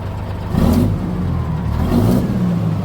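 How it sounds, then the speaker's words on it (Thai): A Victor 380 semi-dump truck engine revs up hard twice, its loud, close mid-range roar swelling and easing between the throttle blips, with no one speaking. "แล้วคันเร่งเนี่ยบอกเลยว่าคันเร่งขึ้นดีมาก"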